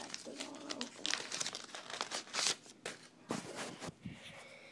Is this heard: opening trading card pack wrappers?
yes